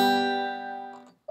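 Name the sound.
acoustic guitar chord strummed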